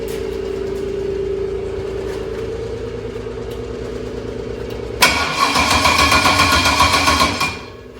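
A car engine cranks under a steady hum, then catches at once and runs loud and rough for a couple of seconds before dropping away, heard close up in a home garage with no talk.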